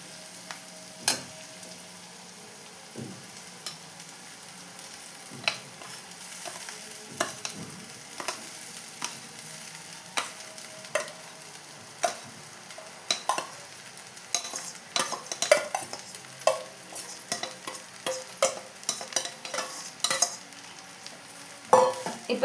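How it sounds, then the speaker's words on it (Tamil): Flattened rice (aval) being stirred into a pan for kichadi, with repeated light scraping and clicking strokes of a spoon against the pan over a soft, steady sizzle, close and unaccompanied by talk. "இப்போது இந்த அவலை கொட்டி கலந்துக்கலாங்க."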